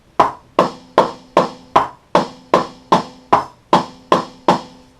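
A snare drum is struck about eleven times at an even, steady pace with single strokes, each sharp crack followed by a short ringing decay, played alone.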